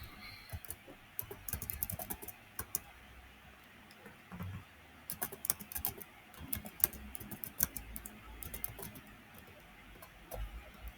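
Typing on a computer keyboard, bursts of quick faint key clicks with short pauses between, close but quiet.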